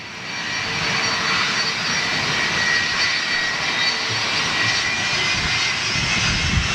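An aircraft powered by LEAP-1A jet engines roars at Manchester Airport, producing a loud, continuous, steady engine rush with no talking.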